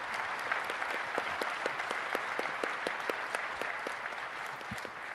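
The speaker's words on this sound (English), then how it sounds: "I want to give a big round of applause to Joe and Holly" A conference audience applauds steadily for its speakers, with dense, even clapping that carries on for several seconds and then fades slightly toward the end.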